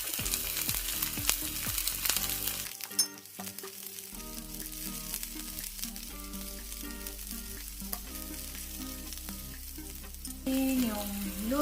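Chopped onions and garlic frying in a pan for a banana blossom dish cooked in coconut milk, a low, continuous sizzle with a few stirring clatters, heard under background music and no clear talk.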